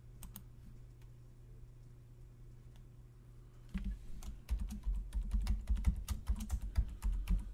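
Typing a password on a computer keyboard: quiet room tone at first, then a quick, close run of key clicks and taps that grows denser and louder toward the end.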